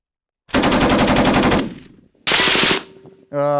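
A German Heckler & Koch MG5 machine gun fires two loud, close bursts of rapid automatic fire, each trailing off into echo, with a short tonal sound at the end.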